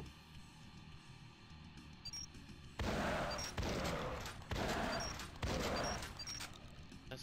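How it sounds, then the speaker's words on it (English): Four shotgun blasts from the shotgun arcade game in Arcade Paradise follow a low electronic hum. Each is a booming crack with a fading tail, spaced about a second apart. "That's why I like the shotgun."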